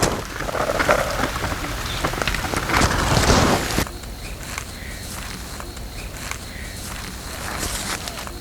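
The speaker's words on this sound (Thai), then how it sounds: "ฝนตกลงมาแล้วครับวันนี้" Steady rain pouring down, louder and heavier at first, then settling into a softer, even patter on surfaces.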